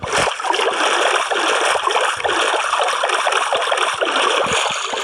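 Steady rushing and splashing water of a boat pushing through water in a video game, continuous and fairly loud with no talking.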